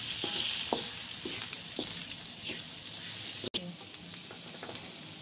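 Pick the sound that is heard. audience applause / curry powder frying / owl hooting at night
curry powder frying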